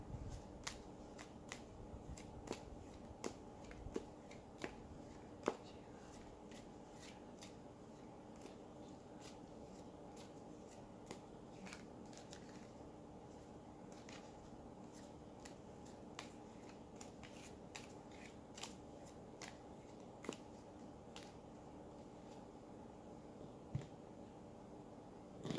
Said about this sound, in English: So again, we're going to shuffle here.